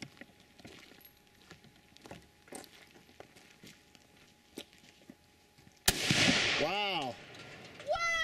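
A shoulder-fired gun shot at a jug outdoors, a sharp loud blast near the end following quieter rustling and footsteps, with a person exclaiming afterwards.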